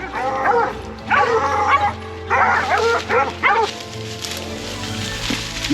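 Hunting dogs on a night hunt in Louisiana bark, yip and whimper in repeated bursts at a caught 180-pound boar hog, fairly close and loud, with a low steady background hum.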